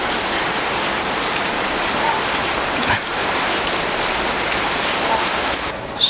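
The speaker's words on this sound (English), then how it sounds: "It's still raining here in Cochin." Steady heavy rain falling in Cochin, a continuous dense hiss of drops on surfaces, loud and close with no talking, with a brief knock near the end.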